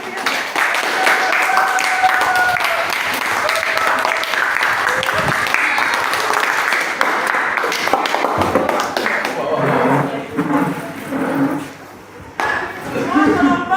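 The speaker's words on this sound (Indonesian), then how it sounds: "Berikan tepuk tangan yang meriah." A classroom audience applauds after a group presentation, with dense, sustained clapping from many hands for about eight seconds before a teacher's voice takes over and continues talking.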